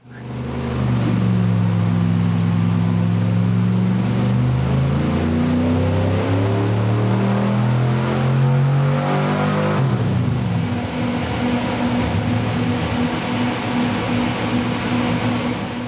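A 383 small block Chevy engine revs hard on a test drive, its pitch climbing and falling in long sweeps before settling into a steadier drone, loud and close with no talk.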